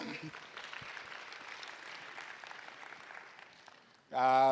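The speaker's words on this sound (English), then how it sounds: "Give a hand of applause." Fairly faint, distant audience applause at a plenary panel on multilateralism, a soft continuous patter of clapping that fades out before a voice begins speaking at the end.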